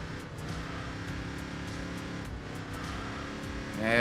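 A stock car's engine from Enthusia Professional Racing drones at steady high revs, holding a constant pitch before swelling louder at the end, with no talk over it.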